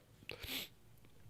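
A single person's sneeze, sharp and fairly close, with a quick inhale catch followed by a bright burst, then quiet breathing afterward.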